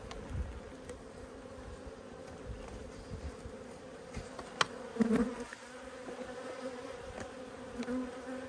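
Honey bees buzzing in and around an open hive during a late winter inspection, a dense steady drone at close range with a few louder passing buzzes, no talking.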